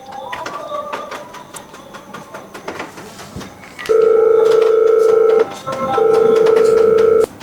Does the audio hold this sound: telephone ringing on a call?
yes